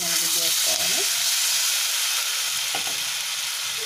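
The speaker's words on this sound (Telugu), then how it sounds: "చింతపండు గుజ్జు వేసుకోవాలి." Tamarind pulp hits a hot tempering pan of curry leaves and turmeric for jackfruit seed rasam, giving a close, steady hiss and sizzle, with a voice briefly speaking at the start.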